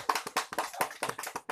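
Classroom audience clapping during a contemporary music lesson, a brisk burst of irregular hand claps from a small group, close and lively, with no voices.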